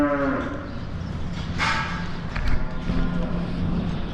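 Heifers penned on a dairy farm moo loudly and close by, with one drawn-out low call followed by overlapping lowing and a few thumps from the animals moving about.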